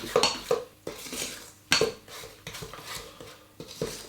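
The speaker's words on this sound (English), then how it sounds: "Now we're going to give these all a stir, just to mix this up into a dough." Oatmeal raisin cookie dough stirred in a bowl, with the spoon scraping and clinking against the sides in irregular bursts, close and moderately loud, no voices.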